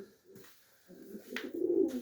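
Pigeons cooing in a home pigeon loft, a couple of soft low throaty coos close by, rising into a fuller rolling call at the end.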